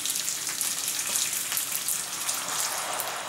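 Vegetable broth is poured into a pan of pepper risotto. It gives a steady close wash of liquid and sizzling that lasts the whole clip, with no talk.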